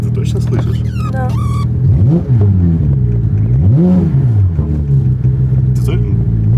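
A Porsche 911 GT3 RS engine revs hard in repeated rising and falling surges during winter drifting, loud and close, with voices talking over it in places.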